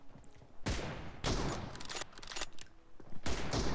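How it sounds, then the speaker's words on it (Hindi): Gunfire in the PUBG Mobile video game comes as several loud bursts of rapid shots with short gaps between them, close and dense. "इसको मैं स्टिल शॉट्स मारूंगा"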